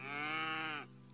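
A cow moos in an 8-bit video game: one sustained, buzzy synthesized low for about a second, close and clean, then stopping abruptly with no talk over it.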